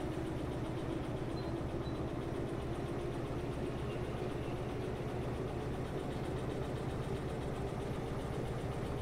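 A small locomotive engine in the Derail Valley train game labours under a heavier load, giving a steady, loud, low mechanical drone with a constant engine rumble that runs unbroken the whole time, with no talk over it.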